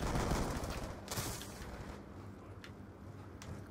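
Shotgun fire in the Call of Duty Black Ops 2 video game, with a couple of booming blasts followed by fainter distant shots over a noisy rumbling background.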